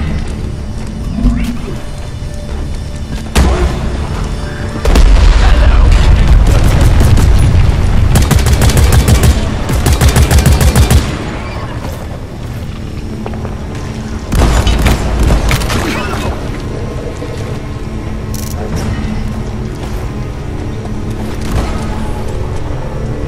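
Automated sentry gun in Deep Rock Galactic firing loud rapid bursts amid booming game effects and mechanical clanks, with spoken callouts between volleys.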